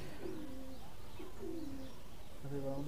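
Madrasi highflyer pigeons at a loft give repeated low, throaty coos in short phrases over a steady background hiss, close by and clearly audible.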